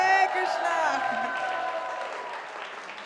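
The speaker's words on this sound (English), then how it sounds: "Can we get another big round of applause for Indradyumna Swami, please?" An audience at a kirtan festival in Rishikesh applauds for Indradyumna Swami, clapping that swells and then tapers off as a lingering sung or instrumental tone fades underneath, with light cheering mixed in.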